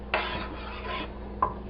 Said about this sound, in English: And then you can just mix it together